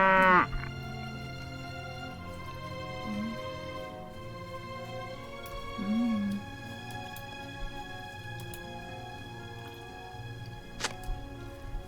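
A goat and other farm animals bleat in a video game, a few short calls rising out of steady background music, fairly faint and spaced apart.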